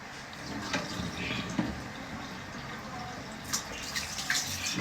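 Tap water running into a kitchen sink, a steady splashing stream with occasional louder spatters, heard alone at moderate distance.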